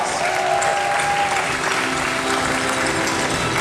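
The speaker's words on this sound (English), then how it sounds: "Come on, big round of applause." A large audience at a live Fear Factor stage show at Universal Studios Orlando gives a loud, sustained round of applause for the contestants, a dense unbroken roar of clapping with faint cheering mixed in.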